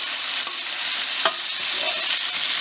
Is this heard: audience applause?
no